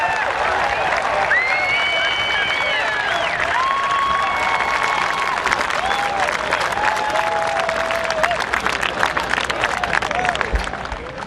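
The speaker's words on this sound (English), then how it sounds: "You hear the applause" A golf gallery at a PGA Tour event applauds and cheers Phil Mickelson's tee shot, a sustained crowd roar of clapping with a commentator talking over it, tapering off at the end.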